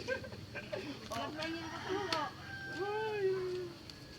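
A cat meows beside a street food stall selling adobo, several short rising and falling cries over steady background noise, mixed with people talking nearby.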